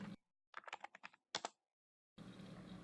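Keys clatter on a computer keyboard in two quick bursts of typing, close and clear against near silence, followed by steady background noise.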